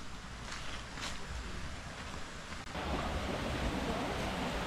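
Water rushes continuously past a house in Bali, a steady broadband roar from a small waterfall that swells a little louder partway through, with no voices.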